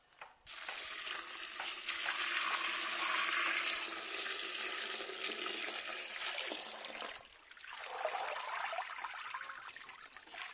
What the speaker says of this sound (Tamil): தண்ணியில போட்டு ஒரு 2 வாட்டி அலசி எடுத்துட்டு ஒரு கிளாத்ல ட்ரை பண்ணி எடுத்துக்கலாம்